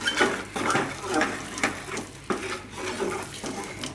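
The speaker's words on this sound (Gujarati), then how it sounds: "હવે થોડુંક પાછું ઘી નાખશું આપણે ઉપરથી અને મિક્સ કરી દેવું" Ghee is mixed into bajra garlic khichu, giving soft, repeated wet stirring and squelching strokes at an even rhythm, close and fairly quiet.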